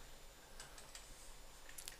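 Typing a zip code on a computer keyboard during Microsoft Access data entry, a few faint, sparse key clicks in a quiet room.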